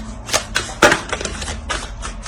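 Tarot cards shuffled and drawn from a deck, a short run of papery slaps and flicks, close and fairly loud, with one sharper snap in the middle and no talking.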